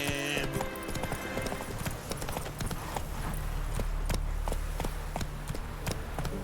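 Hooves of Roach, Geralt's horse in The Witcher 3, clip-clopping in a quick, regular trotting rhythm of crisp close impacts over a busy ambient game soundscape, with no talk.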